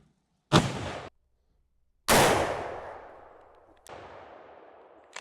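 Big-bore lever-action rifle shots firing 225-grain bullets crack loudly in sharp, separate blasts, each followed by a long rolling echo that decays across open ground.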